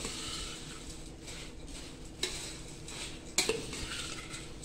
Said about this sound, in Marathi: आता आपण ही भेळ मिक्स करतोय.